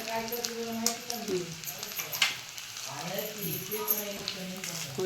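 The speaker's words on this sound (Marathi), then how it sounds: "तुपात आता असा खरपूस भाजून घ्यायचं मस्त काजू बदाम टाकूया" Cashews and almonds roasting in ghee for sweet sweet-potato slices, a steady close sizzle and frying crackle with occasional stirring scrapes, while a voice talks continuously over it.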